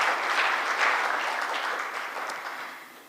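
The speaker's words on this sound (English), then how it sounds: "I believe she deserves another round of applause" A round of applause from the audience at a justice report launch in Kenya, a dense steady wash of clapping that fades slightly toward the end, with no voices over it.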